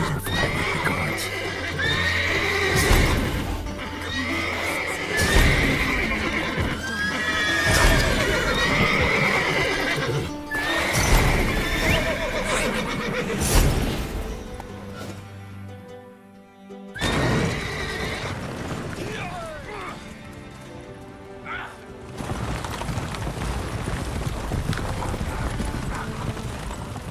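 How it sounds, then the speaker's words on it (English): Horses in The Witcher 3: Wild Hunt game whinnying repeatedly and stamping with clip-clop hooves, loud and close, over a busy ambient game soundscape that briefly drops out before resuming. "Gotta calm down the horses before I wake the guards."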